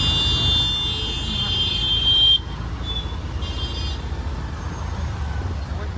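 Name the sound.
road traffic noise with horns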